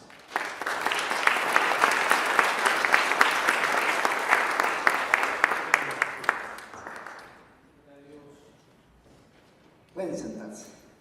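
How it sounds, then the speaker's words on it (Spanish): A church congregation applauds a speaker, a loud sustained round of many hands clapping that lasts about seven seconds and then stops, after which someone speaks. "Vamos a recibir un gran aplauso a nuestro orador"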